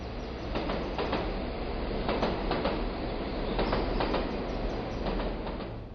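A train runs on rails with a steady rumbling roar and a rhythmic clickety-clack of wheels over rail joints, repeating every second or so, continuous and fairly loud without any voices, setting an eerie mood in a Konkan horror tale.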